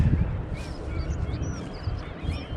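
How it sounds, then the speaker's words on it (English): Ducks or geese call at dawn in the South Downs countryside in March, with scattered honks and quacks over a low, steady outdoor rumble, moderately close and carrying on without a break. "Woken up to some real nice bird life"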